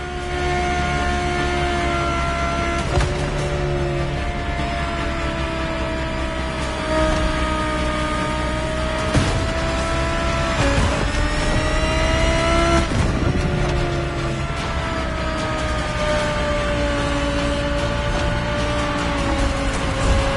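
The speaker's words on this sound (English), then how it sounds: "The 2020 Audi R8 LMS GT2." 2020 Audi R8 LMS GT2 race car built for GT2 European Series competition, its engine droning loud and steady with several rising and falling revs and gear shifts, close by and without talk.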